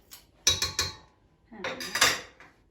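A spoon clinks against dishes in a kitchen while yogurt is being prepared, several sharp metallic taps in two quick clusters, close and fairly loud with no talk.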